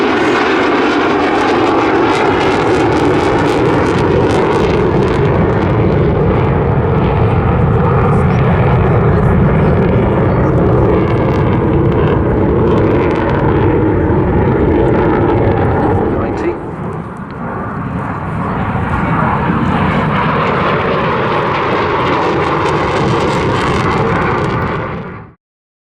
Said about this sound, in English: speed range of this aircraft with the undercarriage down